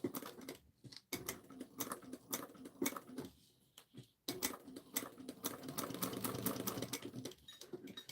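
A sewing machine running in bursts with the needle down, its rapid clatter close and clear, broken by brief pauses and stops, with no talking.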